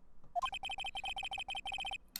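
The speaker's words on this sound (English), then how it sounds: "I know that song your phone plays when it rings." A phone ringtone plays a theme in Ace Attorney, a quick run of rapid electronic notes repeating in a bouncy, staccato rhythm, fairly faint with no talking over it.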